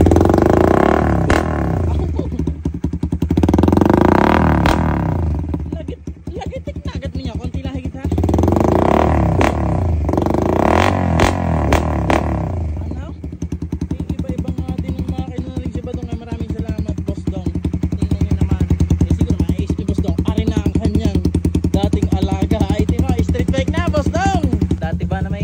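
A stock motorcycle engine revs with repeated throttle blips in loud bursts during the first half, then settles to a steadier running drone, with people talking throughout.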